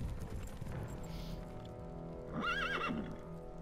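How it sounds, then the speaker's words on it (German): A horse whinnies loudly in WarCraft III, a rising and falling neigh near the end, preceded by soft hoof clip-clops and low game background sound. "Toll, nur die Pferde."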